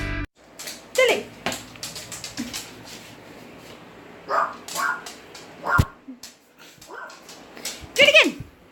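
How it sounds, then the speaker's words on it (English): A small dog barks, yips and whimpers close by in a home, sharp bursts spread across the stretch with whiny cries between, over a busy background of people talking. "Doggy, Dallas, doggy!"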